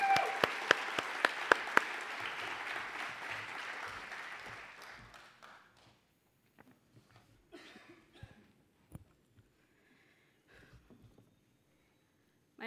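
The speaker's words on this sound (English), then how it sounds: "let's give Andrea Martinez a big round of applause" Audience applause for performer Andrea Martinez, a burst of clapping with a few sharp close claps that fades out over about five seconds, leaving scattered isolated claps and quiet after.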